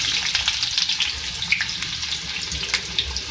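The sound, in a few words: onion frying in oil for curry tempering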